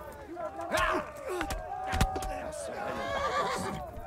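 A horse whinnies loudly with a high, wavering neigh in the video game Kingdom Come: Deliverance, mixed with game sounds and bursts of voices in the background.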